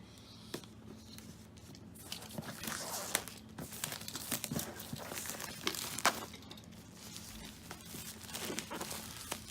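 Packaging for a NuVision Encite Split 11 Windows 10 tablet is opened close up, with irregular crinkling, tearing and rustling of plastic and cardboard. The handling is quiet and no one speaks.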